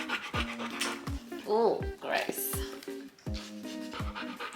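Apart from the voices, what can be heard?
dog panting after exercise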